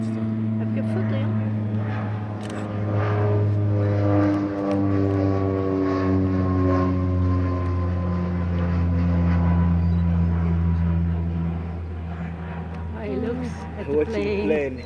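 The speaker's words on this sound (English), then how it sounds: "There's a plane coming along" The droning engine of a propeller plane flying overhead in Serengeti National Park, Tanzania, hums steadily with a strong low pitch, swelling and shifting slowly as it passes, with voices talking faintly underneath.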